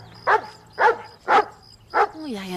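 A dog barks four times in an even rhythm about half a second apart, loud and close, followed by a short whine-like tone.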